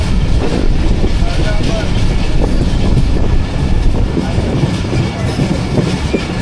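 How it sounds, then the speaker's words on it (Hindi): Rehman Baba Express passenger train approaching Tando Adam Junction in Pakistan, heard from aboard: a continuous loud rumble of wheels and carriages with faint rhythmic clatter, steady throughout. "टंडो आजम जंक्शन पे अप्रोच बना रही है ट्रेन"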